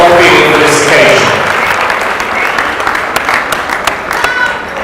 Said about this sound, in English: Let's give these scholars another round of applause